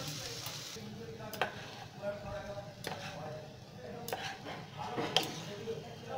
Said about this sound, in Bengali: ভালো করে এখন ভাতের সাথে আমি সমস্ত ইনগ্রিডিয়েন্টসটা মিশিয়ে নিচ্ছি